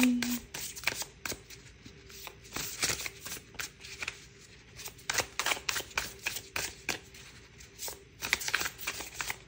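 Tarot deck being shuffled and cut by hand, a steady run of crisp riffling card clicks and flutters at close range, with a soft voice briefly in the background.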